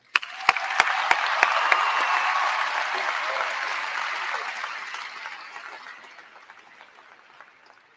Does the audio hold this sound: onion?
no